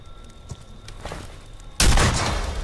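A single loud gunshot in the video game Friday the 13th, a sudden close blast near the end followed by a lingering roar, after a quieter stretch of faint scuffing.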